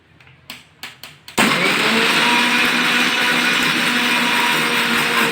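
After several short thumps and whirs, a mixer grinder starts and grinds mustard seeds with a loud, continuous, steady roar that holds evenly to the end, close by and with no voices.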